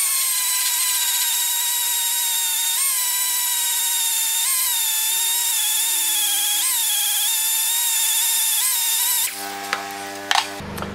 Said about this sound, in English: we're going to grind that down